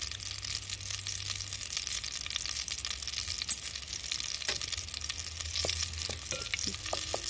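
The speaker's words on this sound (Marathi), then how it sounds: "आता आपण ना पहिले ह्याच्यात आलं लसूण पेस्ट टाकतोय" Ginger garlic paste frying in a clay pot for village-style prawn biryani, a faint steady sizzle with occasional light scraping and clinks, plus a low hum in the background.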